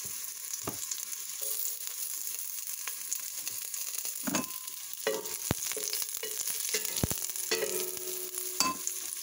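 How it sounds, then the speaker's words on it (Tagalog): Garlic sautés in a pan for squid adobo, a continuous crackling sizzle broken by several sharp scrapes and stirs of the utensil, close and fairly quiet with no talking. "Ngayon po, igigisa ko na."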